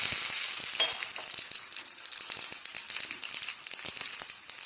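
Mustard seeds and chillies frying in hot coconut oil give a steady, close, loud sizzle with dense crackling pops throughout and no talking.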